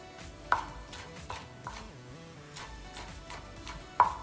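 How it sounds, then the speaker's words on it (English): Fresh mint chopped finely with a knife on a board for a pickled watermelon salad, a few sharp separate knocks with soft cutting in between, close and fairly quiet. "so we're going to chop the mint into Yeah, chop the very mint. fine chop."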